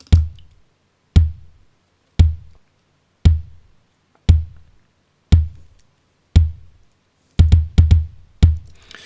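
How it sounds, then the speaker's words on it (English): An acoustic kick drum sample from Logic Pro's stock sounds hits about ten times, short and punchy with a clicky attack, evenly spaced and then closer together near the end. It plays alone, with no voices. "sorry, it's not an electronic kick, it's an acoustic kick."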